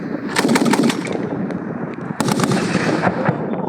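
Rapid bursts of gunfire from new rifles at a National Guard training exercise crack out in quick succession, loud and sharp, with a brief lull before another volley of shots.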